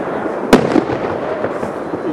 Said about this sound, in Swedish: Jag vet, Göteborgs fyrverkerier.